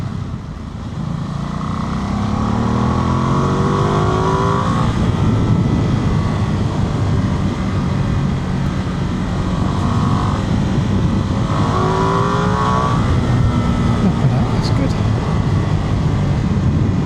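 Ducati Multistrada V2S V-twin motorcycle engine pulling hard under acceleration, a loud, continuous throaty drone with rising pitch sweeps as it climbs through the gears, heard close throughout.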